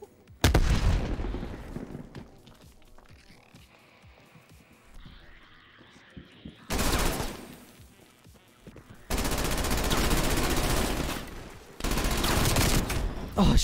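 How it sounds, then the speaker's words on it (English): Grenade blast and gunfire in a video game, a loud burst at the start followed by long stretches of sustained rapid fire separated by quieter gaps, with faint voices between. "Grenade!"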